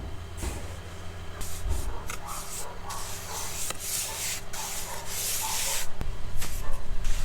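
A second layer of perlite insulation is spread and smoothed over a homemade pizza oven dome, giving a continuous gritty rubbing and scraping hiss with occasional soft knocks, close and steady.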